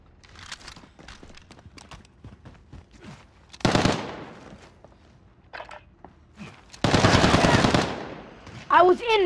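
Machine gun fire in the shooter game Call of Duty: Modern Warfare, with two loud sustained bursts standing out over scattered quieter shots and footsteps, and brief voice sounds near the end.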